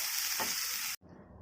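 Chopped peppers, minced garlic and onions frying in a pan, giving a bright, steady sizzle with a brief stir, then cutting off abruptly to a quieter background.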